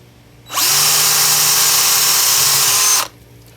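An electric drill whirs steadily for about two and a half seconds at close range, drilling a hole in the control box of a Myford Super 7 lathe, starting and stopping abruptly, with no talking.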